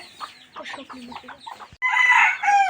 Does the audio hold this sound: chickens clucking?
yes